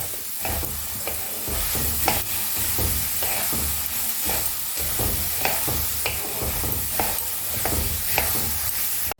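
Washed biuli (urad) dal frying in a wok, with a steady sizzle and repeated scraping stirs of the spatula, close and continuous with no voices.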